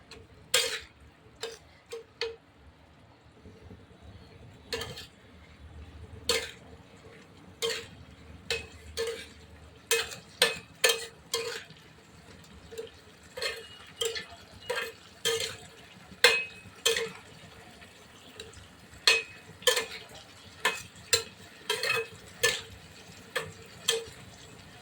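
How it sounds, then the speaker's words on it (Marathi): A spoon knocks and clinks against a pot while vaal bean curry with drumsticks is stirred, a long run of sharp, regular taps over a faint simmering background. "हलवून घ्यायचं."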